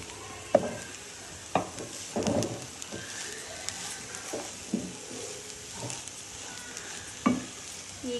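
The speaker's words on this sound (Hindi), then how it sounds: "शिमला मिर्च और गोभी को अच्छी तरीके से मिक्स कर लेते हैं।" Capsicum, cabbage and shredded boiled boneless chicken stirred together in a hot pan, with repeated scraping strokes of a spoon over a soft steady sizzle.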